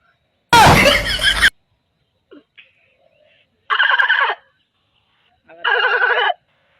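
A human voice imitates a turkey gobbling: one loud, harsh burst, then two warbling gobbles separated by short silences.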